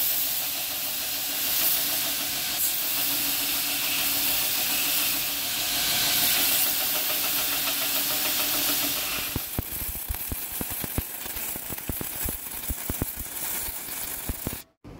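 A stainless san mai billet is forge welded; a steady roaring hiss fills the first part, then gives way to a run of sharp crackling taps before cutting off.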